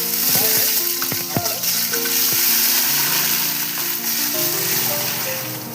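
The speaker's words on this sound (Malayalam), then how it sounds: "ഇനി നമുക്ക് വെള്ളം ഒഴിച്ചു കൊടുക്കാം" Water poured into a hot pot of whole spices, including cloves and cardamom, for Thalassery mutton dum biryani sizzles loudly and steadily up close. Faint clinks of utensils mix in.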